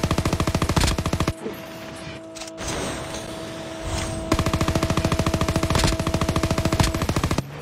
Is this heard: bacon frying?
no